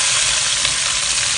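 Steady, dense sizzling of fish coated in flour deep frying in hot oil, a continuous crackling hiss with no voices.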